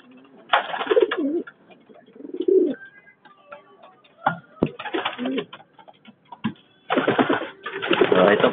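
Pigeons coo in low, throaty, repeated bursts close by in a loft, with a few faint chirps and clatters between calls.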